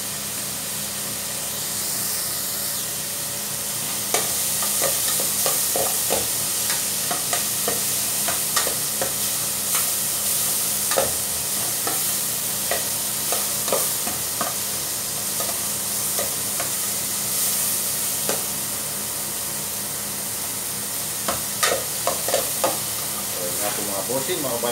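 String beans are stir-fried into a crab and coconut milk stew with squash and mung beans, giving a steady close sizzle with scattered scraping stirs and clinks throughout.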